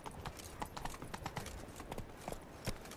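Roach's hooves from The Witcher 3 beat out a brisk, close clip-clop in a rapid, uneven rhythm over about three seconds, with no one speaking.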